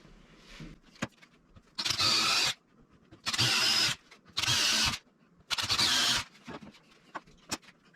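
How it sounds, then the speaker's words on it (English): A power drill whirs in four bursts of a second or so each while drilling holes in a metal skid plate, separated by short pauses and small clicks, close by. "And drill and tap the 4 holes that you just marked."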